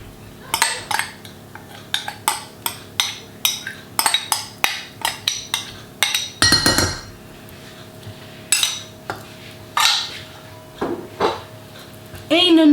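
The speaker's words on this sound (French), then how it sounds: "Et il ne nous reste plus qu'à venir mélanger, tout simplement." Tuna loaf mixture of canned tuna being mixed in a bowl with a spatula or spoon, a run of sharp, close, rhythmic clinks and scrapes, then scattered knocks.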